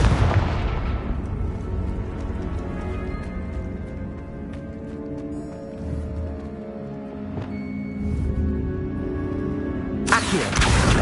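A Confringo blasting spell in a Harry Potter game detonates with a heavy boom, decays into a long rumbling tail under a soft musical score, then another sharp burst erupts near the end.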